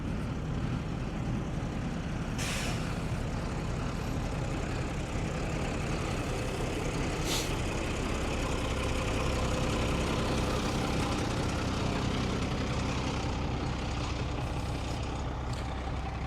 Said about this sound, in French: il y a un gros camion au milieu du champ